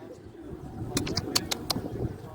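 Pigeons on a seashore give soft cooing and a few brief flutters or chirps, fairly faint and close, over low outdoor rumble and some quiet voices.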